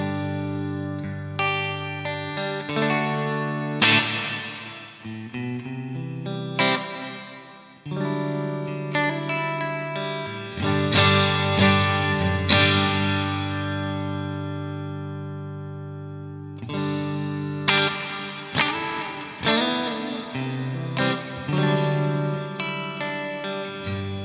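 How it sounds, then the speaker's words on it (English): Guitar played through a Poly Effects Beebo pedal set to a big room reverb, sustained chords and notes ringing out with long washy decay, loud and alone without talk. "as far as reverbs go, that's a pretty nice one"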